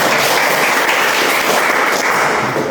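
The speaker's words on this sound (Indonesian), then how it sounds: "Mari kita beri aplaus" A short burst of steady audience applause at an Indonesian school teaching practice event, a dense even wash of clapping with no talk over it.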